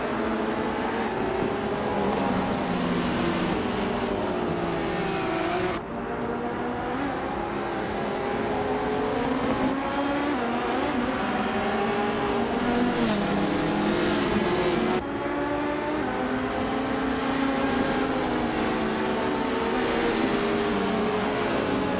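Race cars on a circuit at the Queensland National Track, with a 2003 Palmer JP1 leading the Ultralights class; loud, continuous engine drone that swells and shifts as cars pass, with no talk.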